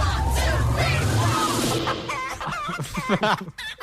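Chickens clucking with a rooster crowing, set in a busy radio show segment; loud close clucks and crowing dominate at first, then give way to voices and scattered clucking sounds.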